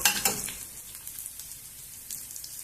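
Onions or spices frying in an open pan for corn pulao give a close, steady sizzle with scattered pops. It is loudest at the start, then settles into a softer, even crackle.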